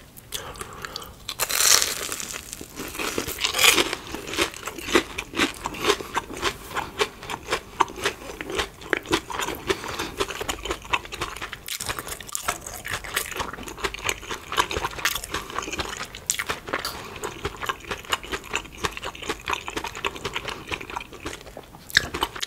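Close, crisp bites and steady chewing on a cheddar cheese hot dog, with repeated crunchy, wet mastication sounds filling the whole stretch at an even, intimate loudness and no talking.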